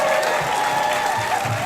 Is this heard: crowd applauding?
yes